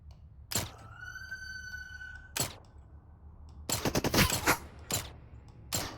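Makarov pistol fired in the game Into the Radius: a handful of sharp, separate gunshots, one early, one in the middle, then a tight cluster and two later reports, with a high mechanical ring after the first shot.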